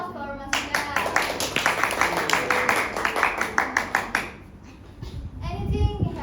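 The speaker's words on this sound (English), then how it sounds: "Give applause for Masika." Classroom applause for a student: rapid, fairly loud clapping from a group of children that carries on for about four seconds, then fades out as children's voices rise.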